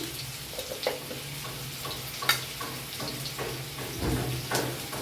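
Potato pieces frying in hot oil with salt and turmeric added, a steady close sizzle with occasional stirring scrapes and soft knocks of a utensil.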